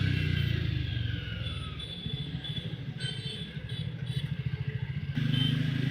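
A 2020 Jawa 42 BS6 motorcycle with a 300cc engine being ridden, its exhaust giving a steady, close, low thumping putter with a faint mechanical clatter and a brief change near the end.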